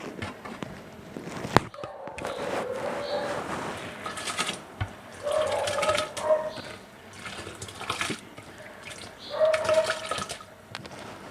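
Washed rice for chicken pulao is tipped into a pot, producing gritty rattling pours that come in several bursts with short pauses between them.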